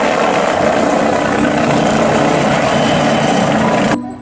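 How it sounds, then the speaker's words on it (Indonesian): A blue and white police helicopter runs steadily and loudly for about four seconds, its rotor and engine roar filling the whole stretch before cutting off abruptly at the end. "Wow, keren, ini helikopter polis."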